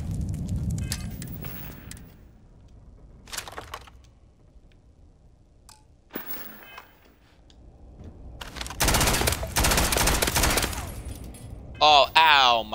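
Bursts of rapid automatic fire from the Old Earth assault rifle in the video game Starfield, scattered short volleys then a dense sustained burst near the end, loud and close.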